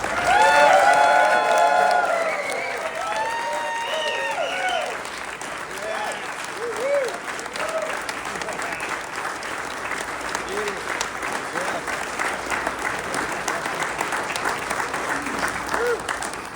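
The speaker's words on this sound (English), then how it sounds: "show your appreciation with a big round of applause for this great team" An audience applauds at length, with scattered cheers and voices at the start, then steady clapping that continues to the end.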